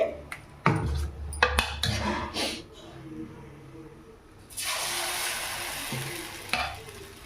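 Wheat flour dosa batter hits a hot pan: a few sharp clinks and scrapes of utensils first, then a loud, steady sizzle that rises suddenly and continues near and bright, with one more scrape near the end.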